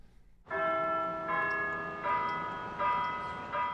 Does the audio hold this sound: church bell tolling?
yes